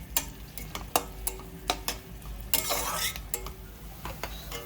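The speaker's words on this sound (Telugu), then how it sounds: "ఇగోండి ఉల్లిపాయలు అయితే ఇలాగా చక్కగా ఎర్రగా వేపుకోవాలి" Chopped onions fry in a thick-bottomed pan for goat liver fry, giving a steady close sizzle broken by sharp spoon clinks and scrapes as they are stirred.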